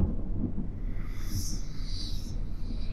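Thunder in The Walking Doki Literature Club mod rolls as a low, continuous rumble with a brighter crackling swell in the middle, heard alone without speech.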